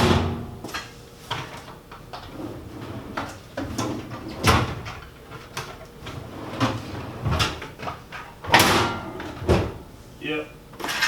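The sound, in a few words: door of Vulcan welding cart being opened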